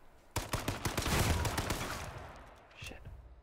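Gunfire in a video game comes as a rapid burst of sharp shots, followed by a louder sustained barrage, then a few more scattered bangs, fairly faint overall.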